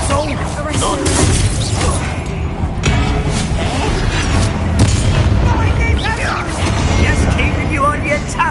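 Bombarda explosion spell going off in the Hogwarts Legacy video game, a dense rumbling blast with shattering debris and crackling effects that runs continuously across the stretch, mixed with voices talking over it.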